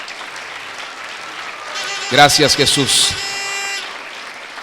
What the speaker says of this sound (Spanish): Dele un aplauso al Señor, por favor.